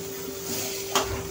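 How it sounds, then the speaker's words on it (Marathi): Onion frying in a kadhai, a soft continuous sizzle with a brief scrape of stirring near the end, close and fairly quiet. "आता आपण याच कढईमध्ये कांदा टाकायचा आहे भाजलेला."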